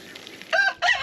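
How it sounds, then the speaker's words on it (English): A backyard rooster crows twice in quick succession, loud and close, each call rising then holding, after a quiet stretch of faint background. "Okay, Rooster."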